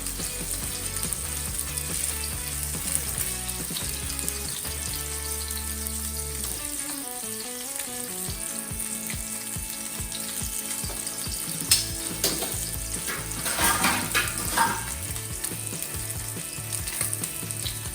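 Tuna steak sears in a hot pan with a steady, close, continuous sizzle and crackle, with a few brief louder pops later on and no talking.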